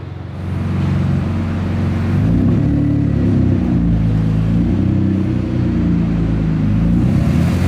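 Restored car engine revving loudly and close, a deep sustained rumble that swells and holds after a brief lower idle at the start, with no talk.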